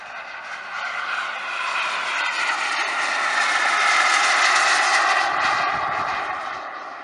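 A BVM F-15 Eagle model jet powered by a Swiwin 140 turbine makes a show pass, its high turbine whine and roar swelling steadily as it approaches, peaking close by, then fading slightly as it passes.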